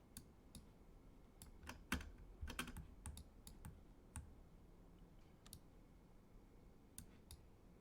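Sparse keyboard presses on a computer during 3D modelling work, scattered single clicks and short bursts of keystrokes, quiet and close with a faint background hum.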